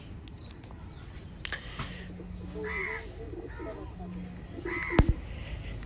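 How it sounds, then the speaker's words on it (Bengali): Imported Pakistani Jansira teddy pigeons coo in two soft, low, drawn-out calls among light background noise, with other faint bird sounds and a sharp click nearby. "খুবই সুন্দর একটা র ব্লাড লাইনের কবুতর"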